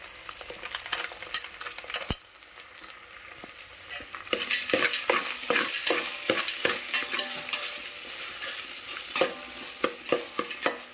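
Ginger-garlic paste and green peas fry in a pan while a spoon stirs and scrapes in quick repeated strokes over a loud, continuous sizzle.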